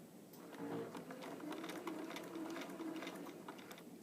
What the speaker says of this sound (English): Sew 3 to 5 stitches forward.